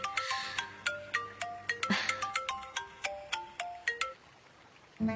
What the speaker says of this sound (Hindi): ये फोन क्यों बजता रहता है हमेशा?